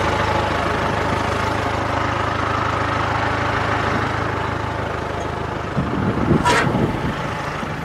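An old, worn Sidewinder shredder's engine runs steadily at a close, loud idle, with a brief sharper burst near the end.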